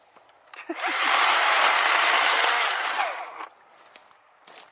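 A Worx electric chainsaw cuts through wood, a loud, steady broadband whine holding for about two seconds, with short bursts of handling noise before and after the cut.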